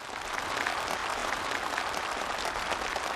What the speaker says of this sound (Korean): 참가자들의 열렬한 박수 속 전달됐습니다